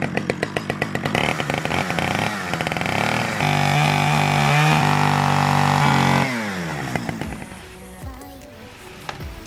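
Power tool cutting enclosure material while a reptile enclosure is being built. Loud, close, buzzing cutting noise with a steady tone and some rough bursts, tapering off at the end.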